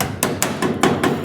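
A hammer strikes thin Volkswagen Beetle sheet metal on a roof chop, six sharp, close, evenly spaced metallic blows in quick succession.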